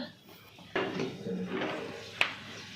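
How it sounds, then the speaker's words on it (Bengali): A roti griddle (tawa) is brought over and set down in a home kitchen, giving a thud of metal on a surface followed by light clattering, then a sharp clink near the end. "রুটি করবো তো রুটির তাওয়াটা নিয়ে এসে রাখলাম"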